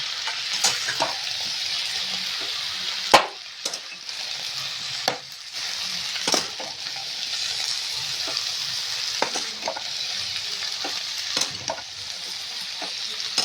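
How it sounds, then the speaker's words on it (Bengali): Khichuri ingredients with bay leaf sautéed together in a hot pan, a constant bright sizzle broken by repeated scraping and clanking stirs of a spatula, close and loud, with no talking. "আমি সব কিন্তু একবারে কষে চাপিয়ে দিচ্ছি"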